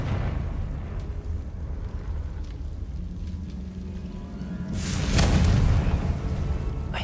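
A booming Confringo blasting-spell explosion from the Hogwarts Legacy video game erupts loudly after several seconds of low rumbling ambience, then rolls on as a broad roaring burst.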